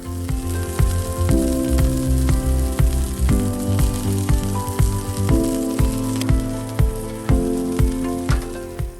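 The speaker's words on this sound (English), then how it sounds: "The skillet is hot and the oil is just beginning to smoke. Let's add the turkey and some herbs and butter." A sous vide turkey breast sears in smoking-hot oil in a skillet with herbs and butter. It gives a loud, continuous sizzle and crackle over rhythmic background music.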